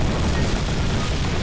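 Explosion in the Garry's Mod video game, a dense low rumbling blast sustained steadily throughout, loud and close with no talk over it.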